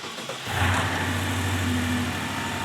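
A BMW N63 twin-turbo V8 with a cracked engine settles into idle after starting up, a steady low hum with a slightly uneven pulse from a misfire, heard close without speech.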